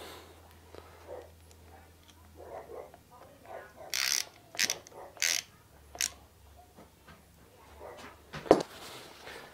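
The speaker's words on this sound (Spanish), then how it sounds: "Ahora vamos a ponerle el tornillo que sostiene el perno, que no se salga" A wrench tightens a bolt holding a pin on an Italika Titan 400 motorcycle, heard as a run of short ratcheting clicks in several quick bursts amid quiet metallic handling, ending with a sharper clunk.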